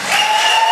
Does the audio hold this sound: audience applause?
yes